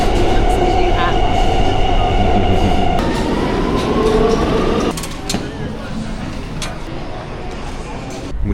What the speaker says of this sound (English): Then it was back on the underground again, where we jumped on a train to Manhattan.